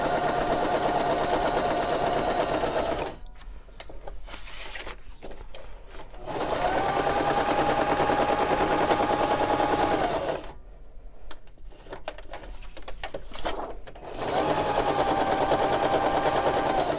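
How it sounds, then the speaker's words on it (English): A sewing machine stitches straight lines in three long, loud runs, separated by short pauses where the needle stays down and the work is pivoted. "practice pivoting, which is just leaving your needle down and then sewing again"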